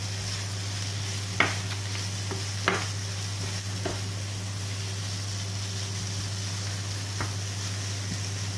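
Vegetables and bell peppers being stir-fried in a wok with shrimp, giving a steady low hiss with a few sharp scraping stirs of the utensil against the pan, fairly quiet with no talking.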